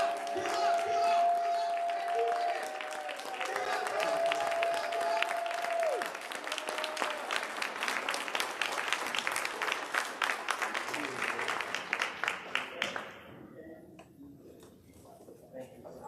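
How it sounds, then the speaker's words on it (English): An audience at a meetup breaks into applause, a dense wash of clapping at moderate distance under a voice and cheers, thinning into scattered claps before fading out. "give my man Okino Johnson Smith a big round of applause."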